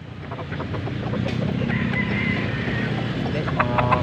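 Gamecock roosters at a fowl sale in Pampanga, clucking and calling amid a busy outdoor background murmur with people talking, fairly loud throughout.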